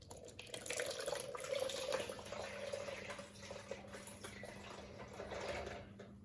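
Water poured from a small height onto turbine blades during a hydropower lab demonstration makes a soft, continuous splashing trickle lasting several seconds, fairly faint and close, with no voices.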